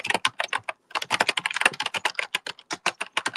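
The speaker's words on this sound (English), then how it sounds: "Who's typing?" Rapid, close clatter of a computer keyboard being typed on, bursts of dense key clicks with one short pause, steady and fairly loud, no voices.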